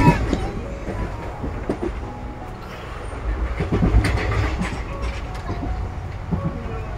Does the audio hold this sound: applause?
no